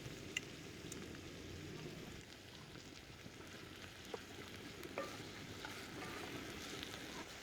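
Onions frying with ginger-garlic paste in a pan for namkeen gosht give a faint, even sizzle, with soft scraping and occasional light clinks of stirring.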